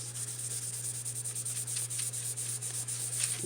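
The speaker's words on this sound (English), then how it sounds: "But I'm going to rub this into our paper." A block of wax is rubbed into paper, a soft, close scratchy friction sound in quick repeated strokes over a steady low hum.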